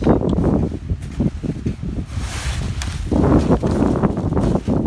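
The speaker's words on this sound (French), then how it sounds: "Là il y a pas mal de vent aujourd'hui." Strong wind buffets and roars across the microphone in loud, continuous gusts, with no voices, while a Laser Stratos sailing dinghy is being rigged.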